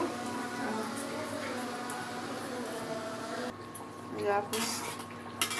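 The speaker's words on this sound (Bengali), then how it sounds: "মশলাটা ভালো করে কষায় নেব" Stone-ground spice paste is cooked down in a pan, with clinks and scrapes of a metal spoon against the pot over a low sizzle, close and intermittent, and a voice talking briefly near the end.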